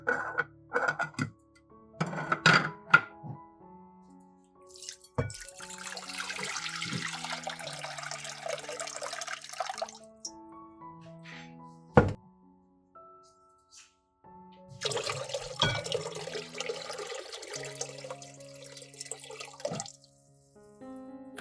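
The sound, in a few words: pouring water from jar into pot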